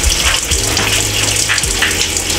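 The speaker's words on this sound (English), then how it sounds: "we want to start off with rinsing off these apples" Steady tap water gushes and splashes over apples being rinsed in a home kitchen sink, a loud continuous wash with no voices.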